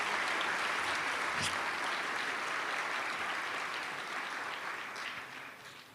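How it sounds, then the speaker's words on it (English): An audience at a United Nations event marking Mahatma Gandhi's 150th birth anniversary claps in sustained, dense applause that stays loud and steady before tapering off slightly at the end. "So a huge round of applause for Secretary General Antonio Guterres."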